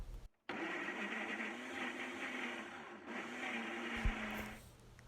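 A Ninja blender pureeing bananas into a soupy texture, a loud steady motor whir running without a break after a brief start, then cutting off near the end.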